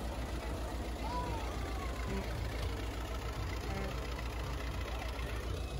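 A pre-WW2 classic car engine runs steadily at a show while its timing is adjusted with the steering-wheel advance and retard lever, a continuous low rumble with regular pulsing, fairly faint and uninterrupted.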